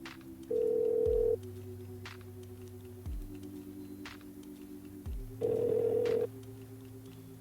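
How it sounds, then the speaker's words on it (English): On an outgoing phone call, a ringback tone sounds twice in long steady bursts with a quiet gap between them, heard over a low line hum. "Let's get him on the phone."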